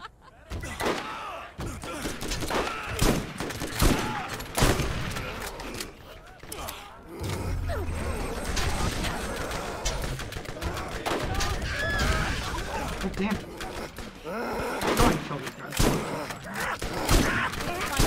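Rapid SMG gunfire from the video game Borderlands crackles in dense, repeated bursts alongside other loud in-game effects, with a player's voice talking over the action.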